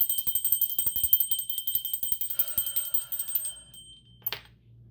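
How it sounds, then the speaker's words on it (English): A small bell rings rapidly and continuously for about three and a half seconds, then falls silent before one last bright strike near the end. "Ring the bell."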